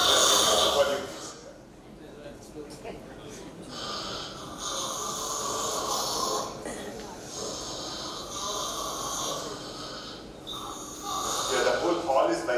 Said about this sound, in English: the whole hall is vibrating with snores